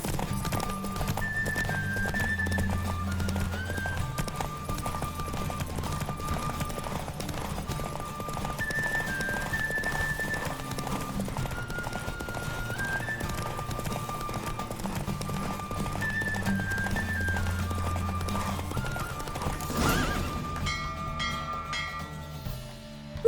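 Galloping hooves of a horse racing in the video game The Witcher 3, a steady rhythmic clip-clop running beneath continuous game music throughout.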